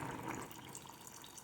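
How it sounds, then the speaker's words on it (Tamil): Tamarind water pours into a yellow pumpkin and toor dal sambar as a faint, soft, continuous trickle and splash lasting just over a second. "இப்போ நான் வந்து கரைச்சி வச்ச புளி தண்ணியை இதில் ஊற்றிக்கிறேன்"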